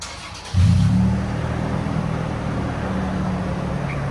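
A 2013 Toyota Tacoma 4.0L V6 with a Magnaflow exhaust starts from idle, gives a quick rev and then settles into a deep, steady rumble, loud and close, with no talking.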